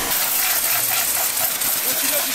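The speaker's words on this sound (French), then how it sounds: "là on est en train de mettre un petit coup de Karcher sur la baie moteur" A Karcher pressure washer spraying a car engine bay, giving a loud, steady hiss of high-pressure water close by for the whole moment.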